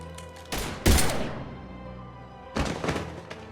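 Gunfire erupts in Mass Effect Andromeda: a sharp volley of close, loud shots with a booming report that rings out and decays, followed after a pause by another quick cluster of shots.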